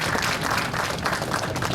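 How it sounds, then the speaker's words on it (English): Steady applause from an audience at a business school orientation day, a dense continuous patter of many hands clapping at moderate distance, with no voices on top. "Clap for you."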